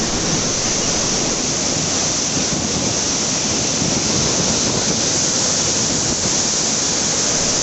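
Water gushes from the open gates of Somasila Dam in a loud, steady roar that fills the whole stretch without a break, with no voices over it.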